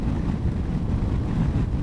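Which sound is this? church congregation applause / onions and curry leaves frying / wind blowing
wind blowing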